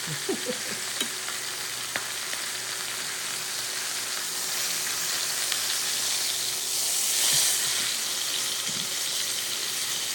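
Steak fat sizzles steadily in a hot pan during pan-searing, a constant close hiss with light crackles and a brief swell of spatter near the end, no voices.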